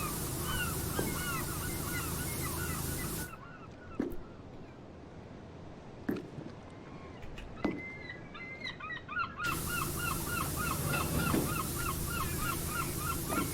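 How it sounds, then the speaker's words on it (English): Gulls and other birds call repeatedly over a steady white-noise wash from a pressure washer in PowerWash Simulator, the ambience cutting out midway, leaving sparse clicks, then returning with rhythmic bird cries. "the screeching of seagulls"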